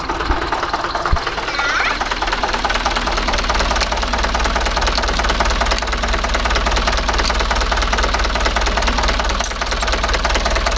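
Mahindra 575 DI tractor diesel engine idling at low speed, a loud, close, steady knocking chug with a constant low throb throughout.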